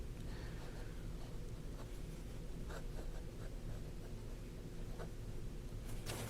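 Fine-point Omas fountain pen nib scratching across paper: a faint, steady dry rasp with small ticks as strokes start and stop, alone in a quiet room.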